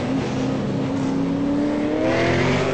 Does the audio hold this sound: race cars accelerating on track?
yes